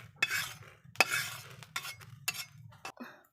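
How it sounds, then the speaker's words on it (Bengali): Cumin seeds fry in a pan for a Bengali pabda fish curry, with a spoon stirring and scraping in several distinct strokes over a low, steady sizzle close by. "আমি আগে জিরাটা ভেজে নিচ্ছি"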